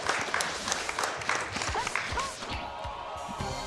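Short burst of audience applause and cheering at a charity speedrun marathon event, a crowd clapping in a fairly steady patter over background voices, fading somewhat toward the end.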